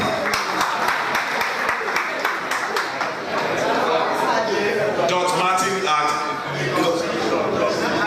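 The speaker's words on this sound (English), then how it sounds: "let's give a clap." Workshop audience clapping at a restorative justice sensitization session, a dense burst of hand claps with chatter and talking over it, fading into voices toward the end.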